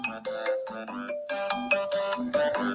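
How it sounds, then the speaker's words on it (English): A mobile phone rings with a melodic ringtone, a bright repeating chime pattern of stepped tones playing clearly and alone for nearly three seconds. "my phone is ringing"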